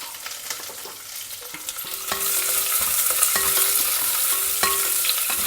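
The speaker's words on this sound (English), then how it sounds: "Stir them in the oil." Sliced onion and green chillies fry in hot oil after whole spices, a steady close sizzle that grows louder, with occasional spoon scrapes and stirring taps in the pan.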